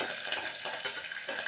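Chana dal and urad dal crackle as they fry in hot oil for a tempering, a close, steady sizzle with small pops and stirring scrapes throughout, no voices.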